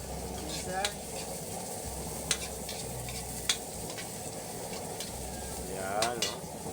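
Unpeeled garlic sizzles steadily in a pan while being stirred for ginataang langka, with a few sharp utensil scrapes and clinks over the continuous frying hiss.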